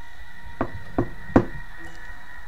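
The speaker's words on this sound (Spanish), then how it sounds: "se dirigió a la puerta, y luego unos golpes en ella." Three sharp knocks on a wooden house door, evenly spaced with the last one loudest, sounding close and dry against a quiet background hum.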